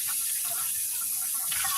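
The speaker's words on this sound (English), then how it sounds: "wash my hands again." Water pours from a kitchen tap into the sink as hands are washed before preparing salmon cakes, a short steady splashing hiss, close and without speech.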